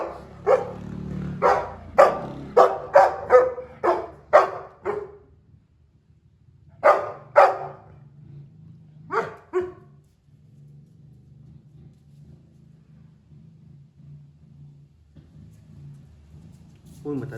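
An old dog barking in bursts: a rapid string of close, sharp barks, a pause, then a few more barks, followed by a low steady rumble in the background.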